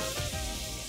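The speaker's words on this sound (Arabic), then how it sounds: "الفراخ عندي تقريبا اتحمر" Chicken sizzling and frying in oil in a pan, a steady close crackle with no talk, loud and continuous throughout.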